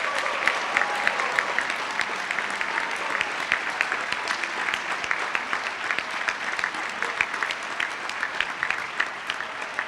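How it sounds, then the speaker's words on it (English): Audience applauding new National Honor Society inductees at a school induction ceremony, steady dense clapping sustained for the whole stretch, fairly even in loudness with no voices on top. "please join me one more time in applauding all our new National Honor Society members"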